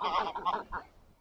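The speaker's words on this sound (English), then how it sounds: "I always seem to see geese fighting there." Fighting geese at Poole Park Boating Lake, Dorset, honk harshly at close range, a quick cluster of three or four raspy calls that fade out within a second.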